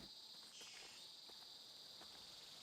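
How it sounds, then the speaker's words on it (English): Insect buzzing from a cicada in the game Horizon Forbidden West, a thin high continuous drone that swells in a pulsing rise, faint and steady throughout with a few soft taps underneath. "Cicada!"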